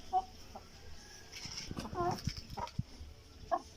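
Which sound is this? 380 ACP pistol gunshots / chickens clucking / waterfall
chickens clucking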